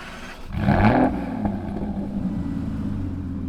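An Aston Martin Rapide S engine cranks and fires with a short loud rev, then settles into a steady low idle rumble close by.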